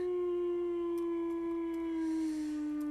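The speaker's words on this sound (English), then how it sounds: "that's my doggy howling at the moon" A pet wolf dog in Minecraft's Better Than Wolves mod howls, one long sustained steady tone that slowly dips in pitch near the end, fairly clear with faint clicks behind it and no talking.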